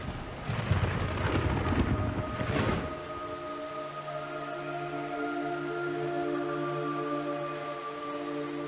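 In Metal Gear Solid 3, rumbling thunder and rain-like noise swell through the opening seconds, then give way to a calm, steady hum with faint sustained tones.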